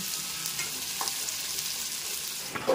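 Onions fry in hot oil in a pan until golden, a steady soft sizzle with a few faint stirring scrapes, close and alone.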